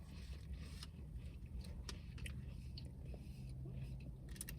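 Close, quiet biting and chewing of a crunchy vegan blueberry scone from Whole Foods Market, soft crunches and mouth sounds over a steady low background hum, with faint breathy voice traces.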